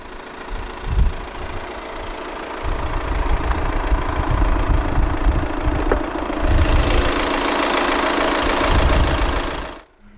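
A 2015 Volkswagen Tiguan's 2.0-litre turbo diesel inline-four idles with a steady, rough rumble, growing a little brighter partway through before cutting off at the end.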